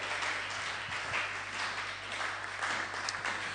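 A church congregation applauding and acclaiming Jesus during a seminar service: steady, dense clapping from many hands in a large room, mixed with raised voices throughout.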